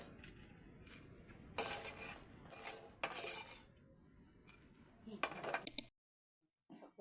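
Kwek kwek, battered fried quail eggs, tipped into a bowl, with bursts of close metallic and ceramic clinks and scrapes separated by quiet gaps, ending in near silence.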